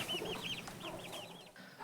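A native country mother hen clucks in a short run of quick, throaty calls, fairly faint and close, with no one talking.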